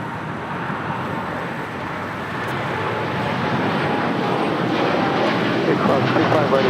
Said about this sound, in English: we do have a United Dreamliner now rolling down 25 right